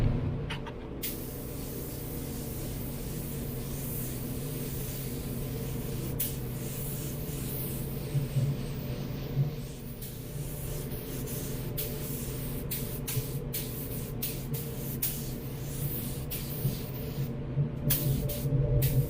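Iwata LPH80 spray gun spraying silver paint, a continuous close airy hiss held steady for the whole stretch with brief breaks in the spray.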